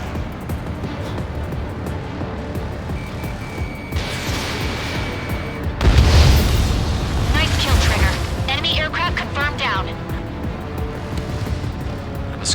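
Missile launch during an Ace Combat 7 aerial dogfight: a loud rushing whoosh swells in midway and sustains as a roaring burst over steady jet engine noise, with radio chatter around it.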